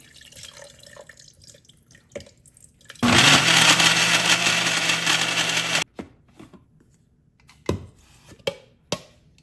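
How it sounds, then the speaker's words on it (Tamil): An electric mixer grinder jar blends soaked dates for a Christmas dates cake, a loud, steady whirring roar lasting about three seconds before cutting off, followed by a few faint drips and clatters. "இதை இந்த மிக்சி ஜாரில் போட்டு மிக்ஸ் பண்ணி எடுப்போம்"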